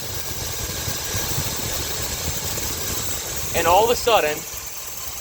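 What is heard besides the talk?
engine running rough with mixture control solenoid plugged in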